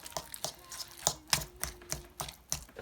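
Mashed avocado with lemon juice and dried herbs being mixed in a bowl, a series of quick soft taps and scrapes in an uneven rhythm, close and fairly quiet.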